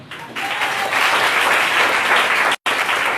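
A church congregation breaks into loud, dense applause and cheering that swells after a brief start and holds steady, cut by a momentary silence near the end before resuming.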